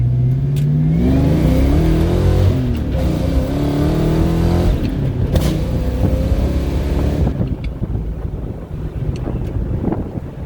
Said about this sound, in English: Now that has some acceleration to it. That's pretty good for this 5 liter